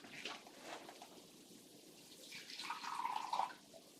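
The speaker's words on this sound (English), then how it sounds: "So I'm going to put about 40 mils of acetone, which is about a third of one of these containers." About 40 millilitres of acetone pours into a plastic cup, a soft liquid trickle that swells into a brief gurgling stream near the end, faint and close, with no voices.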